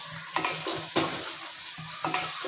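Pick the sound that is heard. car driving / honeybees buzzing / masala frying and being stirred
masala frying and being stirred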